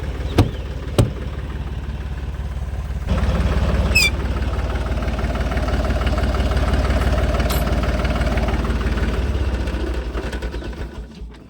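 A tractor engine idles steadily to drive a crop sprayer in a farm plot, a deep continuous rumble with faint knocking, a few sharp clicks early on, the note swelling after a few seconds and then fading toward the end.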